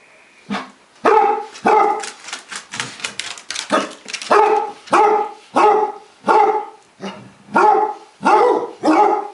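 A dog barks again and again at close range, a steady run of sharp, evenly spaced barks that grows more regular toward the end, with no talking over it.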